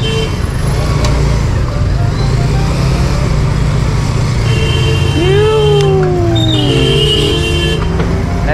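Busy road traffic heard from a moving electric bike, with a steady close rumble of cars, buses and trucks, an engine tone shifting pitch as a vehicle passes, and a voice talking over it.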